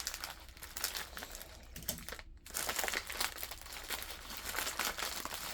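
Plastic packaging of a diamond painting kit parcel being crinkled and handled, a steady run of close rustling and crackling crunches that continues almost without a break.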